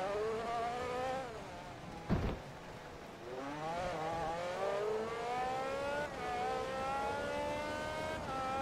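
A race car in Forza Motorsport 2 revs hard through repeated gear shifts, its engine whine climbing and dropping in steady waves, with a brief thump partway through; no voices are heard.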